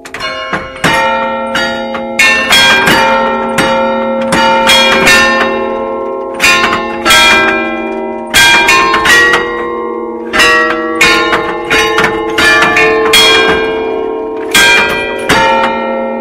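Church bells ring loudly in a busy, overlapping peal, several bells striking in quick irregular succession and letting their tones hang.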